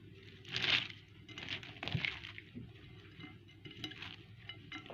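Shredded cabbage being stirred and mixed with carrot for sauerkraut, soft wet crunching and rustling in short irregular strokes, fairly quiet and close.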